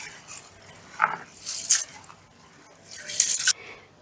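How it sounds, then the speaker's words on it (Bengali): Basmati rice being rinsed by hand in water, with soft wet squishing and swishing bursts in a few short rounds, close and moderately loud, with gentle dripping between them. "এবারে আমি চালটা আলতো হাতে 3 থেকে 4 বারের মতন বেশ ভালো করে ধুয়ে নেব।"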